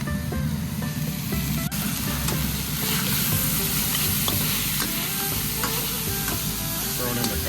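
Garlic chicken fried rice sizzles loudly and steadily in a hand-hammered wok, with a constant hiss of frying and the scrape of stirring throughout.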